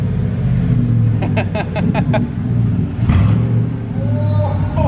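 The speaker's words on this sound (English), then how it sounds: "hit the gas a little bit. It's definitely deeper." A straight-piped 2014 Chevrolet Silverado with its exhaust rumbling loud and close, deep idle swelling with brief throttle blips, with a few sharp clicks over the rumble.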